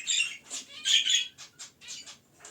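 An Indian myna gives a series of shrill, raspy squawks and chirps in quick bursts, close by, with short pauses between calls and no talking.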